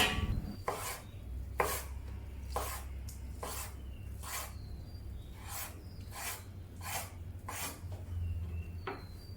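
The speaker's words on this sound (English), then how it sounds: "Transfer the egg to a chopping board and cut the eggs into strips." A knife cuts egg into strips on a wooden chopping board about ten times at an even, unhurried pace, each cut a crisp close knock.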